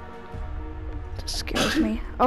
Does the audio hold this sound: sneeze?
yes